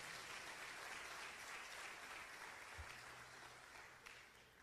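A church congregation claps loudly for the Lord, a broad, sustained wash of applause that holds steady and then slowly thins, with a single low thump midway.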